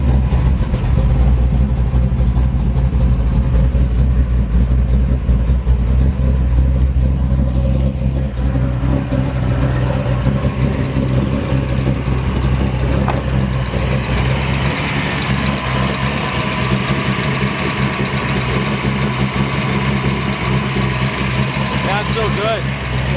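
A 1967 Chevrolet Camaro SS pro-touring car with a built 383 stroker V8 fires up and settles into a loud, steady idle close by, its low rumble running throughout, with occasional blips, a rise in the second half and people talking over it.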